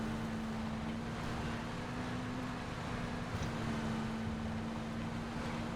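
A game vehicle drives in PUBG with a steady engine hum and a constant low drone, wind-like rushing over it, holding level throughout with no talk.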